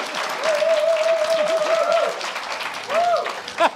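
An audience breaks into sustained applause, a dense wash of clapping that holds steady and fades slightly toward the end, with a voice speaking over it.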